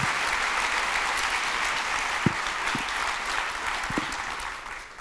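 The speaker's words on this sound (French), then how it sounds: "un grand applaudissement pour nos speakers" Conference audience applauding the speakers, a steady wash of clapping throughout that tapers slightly toward the end, with a few sharp knocks or thumps standing out.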